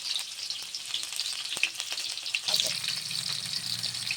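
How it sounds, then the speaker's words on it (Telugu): Thinly sliced onions hit hot oil in a kadai and fry with a steady, close sizzle that brightens and thickens partway through, with a few light stirring clinks and no talking. "ఆయిల్ వేడైందండి. ఇప్పుడు ఇందులో కట్ చేసి పెట్టుకుందాం. సన్నగా ఉల్లిపాయలు వేసుకుందాం."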